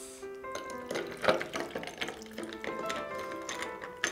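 Hot espresso poured into a glass, a light continuous liquid trickle with faint splashing that stays fairly steady and close throughout, with no talk.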